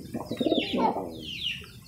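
A male pigeon gives a single soft, throaty coo close by, with little else around it.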